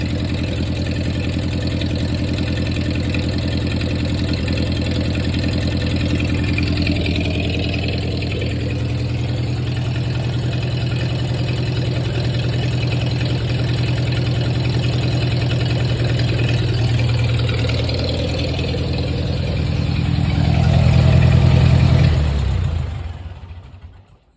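A 1948 Ford 8N tractor engine, back running after sitting over ten years and needing starter fluid to fire, chugs loud and steady up close, briefly swells louder near the end, then cuts out and dies away.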